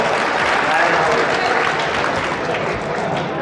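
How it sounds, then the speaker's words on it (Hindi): A crowd at a BSP party gathering gives loud, continuous applause while a leader is honoured, a dense, steady roar of clapping with voices blended in throughout. "जोरदार ताली के साथ सम्मान करें।"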